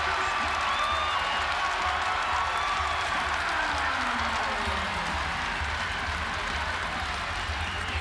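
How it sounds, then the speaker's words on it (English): A basketball arena crowd at a Notre Dame versus Wake Forest men's college game roars continuously after a dunk, a dense, steady wash of cheering and applause without pauses. "this crowd was just begging for a play like that to come alive"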